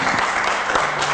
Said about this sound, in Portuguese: Recebemos aplausos!